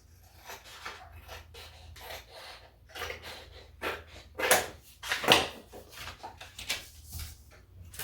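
A blade slices a thin sliver off a small Cricut fall farmhouse sign, making quiet rasping scrapes and rubs, with two sharper, louder cutting strokes near the middle.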